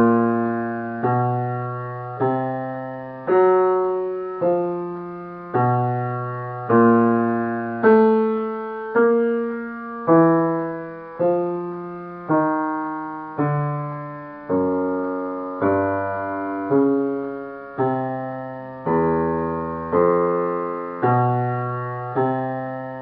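A bass plays a walking blues line in steady half notes, each pitch approached from a half step above or below, two even plucked notes per bar sounding alone, clear and close for the whole chorus.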